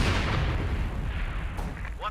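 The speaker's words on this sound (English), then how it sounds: "I think that was major artillery." Heavy artillery barrage in a strategy video game, a dense continuous rumble of booming fire with a sharp crack near the end, loud and close throughout.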